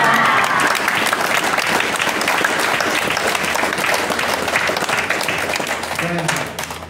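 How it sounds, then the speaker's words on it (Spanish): A church congregation at a Mass for Santa Cecilia applauds the band's music directors, sustained loud clapping from a crowd that fades out near the end, with a voice briefly audible under it. "Un aplauso y una felicitación para todos ellos."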